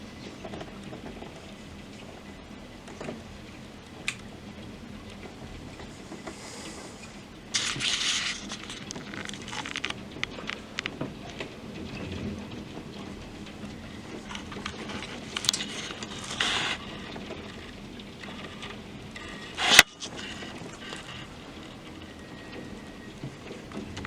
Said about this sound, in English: Wow, the hail's not letting up.